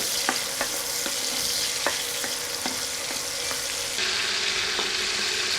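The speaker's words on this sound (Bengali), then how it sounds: "চিংড়ি মাছগুলো তেলে এক দেড় মিনিট ভেজে নিব" Prawns sizzle steadily in hot oil in a pan, a dense continuous frying hiss broken by occasional sharp clicks of a spatula stirring them, close and fairly loud throughout.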